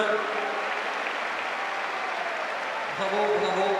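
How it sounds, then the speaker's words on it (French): A crowd at a Cesta Punta final in Saint-Jean-de-Luz applauds steadily in a continuous wash, with a voice speaking over it near the end. "Vous pouvez vous applaudir."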